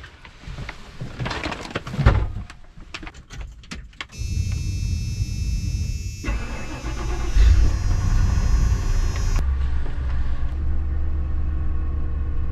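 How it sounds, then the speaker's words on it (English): Keys and clicks come first, then a van engine cranks and catches, settling into a loud, steady idle rumble that continues to the end. "engine's kind of loud lately."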